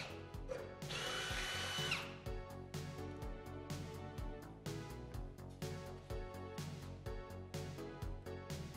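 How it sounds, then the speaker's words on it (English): A power drill bores through a stainless steel DeLorean frame lubricated with oil, starting with a loud sustained whine, then settling into repeated short grinding bursts as the bit bites and releases. "I'm using a liberal amount of oil to drill into the frame."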